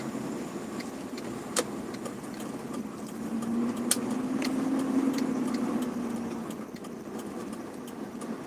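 Evening traffic crawls along a busy, congested street in Banda Aceh during Ramadhan, a steady mid-distance engine hum with a car swelling past midway and faint clicks and clatter around it, no talk.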